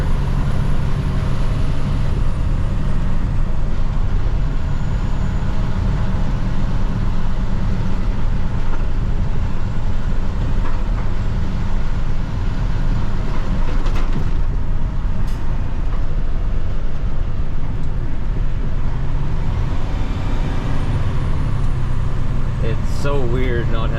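Cab-interior drone of a 2010 International 7600 dump truck under way, a steady low engine rumble with turbo whine on top, continuous and loud throughout, with a voice talking over it.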